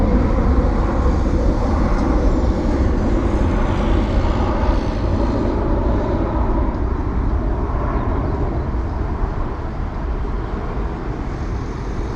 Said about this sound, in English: we've got Airbus A330 headed to Istanbul in Turkey, Turkish Airlines